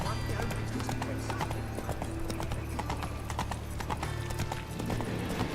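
Steady, rapid hoofbeats of the horse Roach galloping in The Witcher 3, close and continuous, with a brief whinny and character voices speaking over the running.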